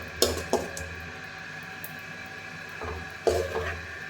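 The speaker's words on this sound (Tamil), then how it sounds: "ஸோ இது ஒரு டைம் நல்லா இப்படி கிண்டி விட்டுட்டு" A spoon stirs creamy red pasta sauce in a pan, giving a few close clinks and knocks against the metal. Quiet gaps fall between the sparse strokes.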